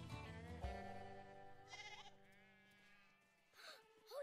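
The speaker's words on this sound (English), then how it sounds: "The fence is broken, and the sheep are getting out." Cartoon sheep bleat in a children's animated farm scene, several wavering bleats following one another, clear and close, with quieter bleats returning near the end.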